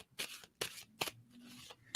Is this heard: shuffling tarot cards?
yes